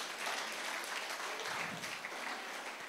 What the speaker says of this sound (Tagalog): Isa pa nga pong palakpak sa Panginoon.